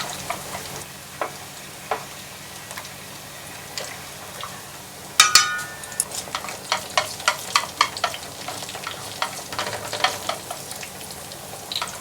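Garlic frying in oil in a pan for peperoncino, a quiet steady sizzle with crackling pops that grow busier partway through, plus occasional light stirring clicks.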